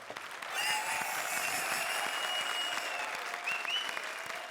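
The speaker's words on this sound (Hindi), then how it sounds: "चलो क्या तालियां बजा रहे हो," A studio audience at a comedy circus show breaks into steady applause with a few cheers mixed in, filling several seconds at moderate volume without any talking.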